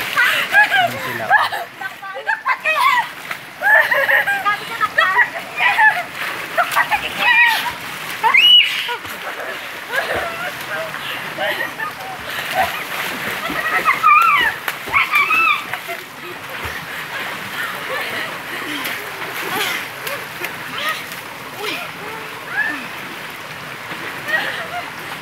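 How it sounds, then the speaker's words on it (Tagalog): People bathing in water splash and slosh steadily close by, with rippling and churning water throughout while voices chatter and call out over it. "Naliligo lang yung mga kasama ko."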